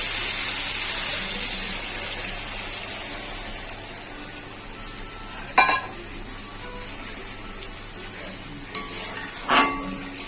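Water poured into a pan of simmering rohu fish curry with potato and pointed gourd, giving a steady hissing sizzle that slowly fades, broken by a few clinks of a spoon against the pan.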